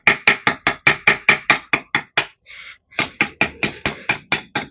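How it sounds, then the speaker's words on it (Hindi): A knife scrapes caked dirt and rust off the casing of a submersible pump motor, making a fast, even run of sharp, loud strokes up close, broken by one short pause before the rhythm picks up again. "तो हम एक चाकू से धूल गड्ढा छुड़ा लेते हैं"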